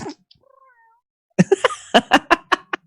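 A person's voice imitates a satisfied cat, giving a brief mew and then a rapid series of short, close, chirping purr-like bursts, loud and alone.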